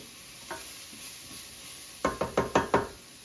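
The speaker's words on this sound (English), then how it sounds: "I'm going to stir a little bit." A spoon or spatula scrapes and knocks in a pan of sizzling curried eggplant, with one isolated tap followed by a quick run of five rhythmic stirring strokes, close and clear.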